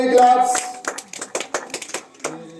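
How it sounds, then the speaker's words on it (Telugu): A crowd at a village fruit competition prize ceremony clapping loudly, a burst of close hand claps that thins into scattered claps. "ఒకసారి గట్టిగా చప్పట్లు కొట్టాలి ఒకసారి"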